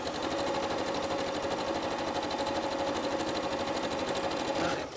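A domestic sewing machine topstitching along a fabric seam runs in a steady, rapid mechanical patter for the whole stretch, loud and close, with no talking, slowing briefly at the very end.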